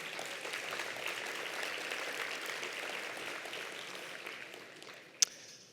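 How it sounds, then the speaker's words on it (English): Round of applause from a medical conference audience of cochlear implant professionals, a steady even clapping that holds for several seconds and then tapers off, with one sharp sound near the end. "Can you please give us a round of applause?"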